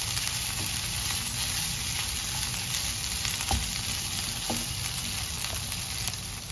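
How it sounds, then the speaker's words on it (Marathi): Boiled potato is stirred into a sizzling mixture in a frying pan, giving a steady close crackle of frying with a few soft scraping and stirring knocks throughout. "आता त्याच्यामध्ये हा उकडलेला बटाटा चांगला मिक्स करूया।"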